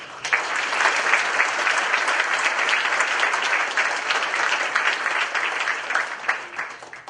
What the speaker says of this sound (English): So I think we all owe each other a tremendous round of applause